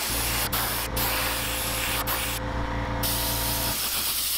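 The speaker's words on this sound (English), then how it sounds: "let's see how painting and clear coating a big blade like this works." An aerosol can sprays pearl white paint onto a big musky tailspinner blade in a loud, continuous close hiss with a few brief dips before it cuts off.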